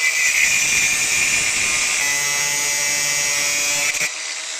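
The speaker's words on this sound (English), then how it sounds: "So first step is get an angle grinder and do some cutting." An angle grinder cuts during seat belt installation work in the interior of a 1971 Toyota Celica TA22, giving a loud, continuous high-pitched whine that cuts off and winds down near the end.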